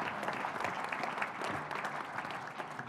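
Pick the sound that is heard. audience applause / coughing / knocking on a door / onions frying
audience applause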